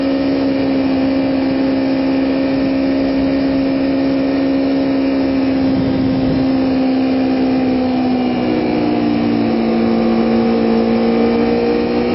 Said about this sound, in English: revving my engine really loudly, except in the tunnels